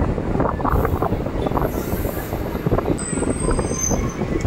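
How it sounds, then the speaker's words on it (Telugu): An MMTS local train pulls into a station in Hyderabad with a loud, close rumble of wheels on rails and a high squeal of braking wheels toward the end. "మన ట్రైన్ వచ్చేసి."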